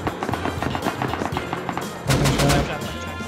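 Rapid automatic gunfire in the survival game Rust, a fast rattling burst of shots, then a heavier, louder volley near the end, with faint voices in the background.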